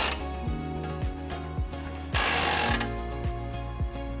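A plastic hook and trigger latch ratchets into place on a Rocky Mounts Mono Rail two-bike rack, giving a string of rhythmic clicking pawl ticks, close and distinct, with a brief scraping rush partway through.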